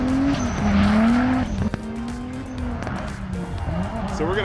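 A drift car at a drifting event slides through a turn, its tires squealing in a loud, sustained screech that rises and falls over a roaring engine note. The skid is close and continuous, with brief pops and a fading squeal near the end.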